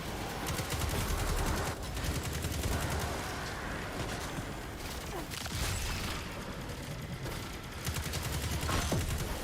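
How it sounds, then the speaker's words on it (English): Auto rifle fire in a video game rattles in rapid, sustained bursts with short breaks between volleys, loud and close throughout. "Dude, auto rifles feel so good."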